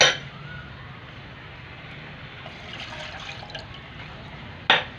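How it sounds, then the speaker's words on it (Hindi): Water poured into a cooking pot (bhagona) in a home kitchen, a steady splashing hiss running throughout at moderate level, ending with a sharp clink near the close. "और फिर थोड़ा पानी आपको इसमें डालना है"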